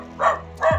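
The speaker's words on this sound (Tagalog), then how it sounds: "Aso." A dog gives two short barks close by, the second one sliding downward into a whimpering yelp, with faint background noise and no talking.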